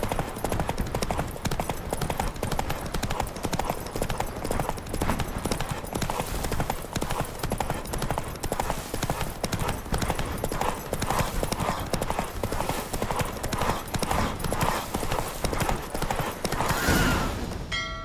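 Hooves of a galloping horse in The Witcher 3: Wild Hunt during a race, a fast, continuous clip-clop rhythm that carries on nearly without a break at a strong, close level.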